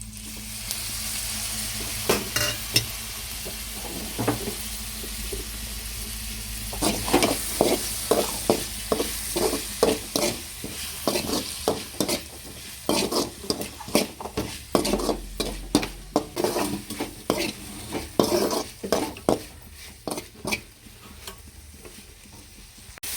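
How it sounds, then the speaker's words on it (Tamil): Chopped goat spleen and liver sautéing in oil with ginger-garlic paste, a steady sizzle punctuated by rapid, rhythmic scrapes and clacks of a spatula against the pan, close and loud, with no speech. "சுவரொட்டி வந்து நல்லா எண்ணெய் இதில் வதக்கி விட்டாச்சு"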